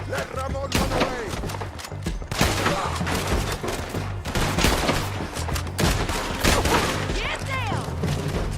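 Artillery and gunfire in the Red Dead Redemption 2 epilogue battle, a dense barrage of booming blasts and rifle shots running steadily throughout, with shouted voices underneath.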